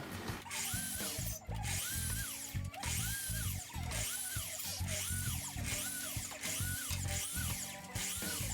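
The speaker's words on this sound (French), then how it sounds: "je fais un trou dans la lame pour y glisser un spot" A power drill bores a hole through a shower wall panel to fit a spotlight, running loud and close with a steady whine that dips and rises in regular repeating pulses throughout.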